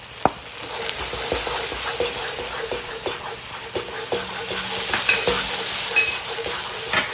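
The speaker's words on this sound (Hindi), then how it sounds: "तो आपने इसको भूनना है, भूनना है, भूनना है।" Masala with ginger and garlic sizzles and fries in a pan, with steady crackling and hissing broken by frequent scraping stirs and occasional soft clicks of a spoon.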